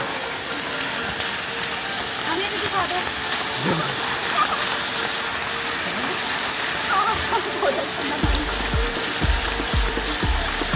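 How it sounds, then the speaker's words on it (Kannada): Rainwater flows with a steady hiss in the background while a person talks over it, and a few low thumps come near the end. "ಈಗ ನೀರು ಹರಿತಾ ಇದೆ"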